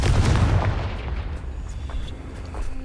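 A Confringo blasting spell goes off in Hogwarts Legacy, a single heavy booming explosion up front that rumbles and fades over a few seconds, loud and with no speech.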